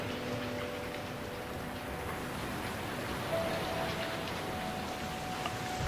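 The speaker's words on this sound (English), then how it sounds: "now it is an absolute torrential downpour" Dense, steady hiss of heavy torrential rain pattering continuously on a lake on Saskatchewan's Churchill River across the whole clip, with no talking.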